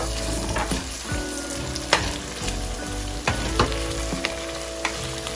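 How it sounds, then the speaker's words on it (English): Sliced onions and green capsicum fry in a pan with a steady, loud sizzle, broken by occasional scraping and stirring knocks, close up and with no voices. "So just when the onions turn a little pink, we'll add the green capsicum."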